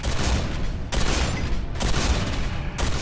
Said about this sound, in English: Okay, shotgun's the way to go here.